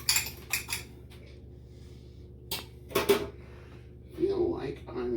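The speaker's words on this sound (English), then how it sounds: "Give that a quick scramble" Half an egg scrambled in a bowl, a few quick bursts of metal utensil clinking and scraping against the dish separated by pauses, close and fairly quiet.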